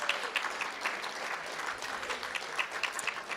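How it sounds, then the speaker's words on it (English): Scattered, moderate applause from an audience at a school board meeting, fairly quiet and slightly distant, with individual claps audible through the room's reverberation. "Let's give her a round of applause."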